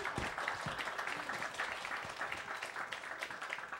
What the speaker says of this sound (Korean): 다시 한번 우리 아이들에게 큰 박수 부탁드리겠습니다.